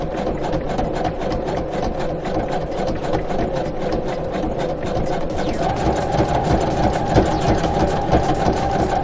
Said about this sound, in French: aidez un peu votre machine en tirant parce que très légèrement